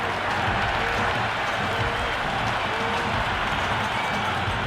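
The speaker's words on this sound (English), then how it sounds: "The crowd are really getting quite raucous." Loud, continuous crowd roar and cheering from a cricket stadium in the video game Cricket 26 after a big hit over the rope, a dense steady wash of noise with no pauses, close and full throughout.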